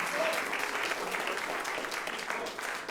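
Sustained applause from a school audience in Broward County honoring a basketball coach with state championships, a dense, steady wash of many hands clapping throughout without a break.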